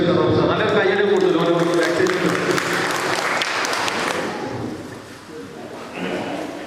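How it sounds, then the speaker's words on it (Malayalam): Audience applause welcoming a guest at a school alumni batch gathering held at an orphanage, loud and sustained at first with voices mixed in, then thinning and fading toward the end. "നല്ലൊരു കയ്യടി കൂടുതൽ."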